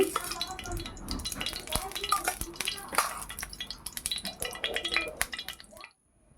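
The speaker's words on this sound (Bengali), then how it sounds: "আমি একটি তাওয়া বসিয়েছি এর মধ্যে তেল দিয়ে দিচ্ছি" Cooking oil goes onto a tawa griddle while making an egg pepper fry, with close clinks and light metallic taps over a soft liquid trickle that stops abruptly near the end.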